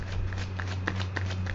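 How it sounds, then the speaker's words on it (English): Tarot cards being shuffled and riffled up close, a quick run of soft papery flicks and taps over a low steady hum. "I'm gonna put another shuffle and rifle on these."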